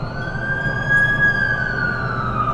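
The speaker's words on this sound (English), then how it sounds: "That's the ambulance I called." A wailing ambulance siren in the video game The Amazing Spider-Man 2 rises and falls steadily, loud and continuous, with a low engine rumble underneath and no talking.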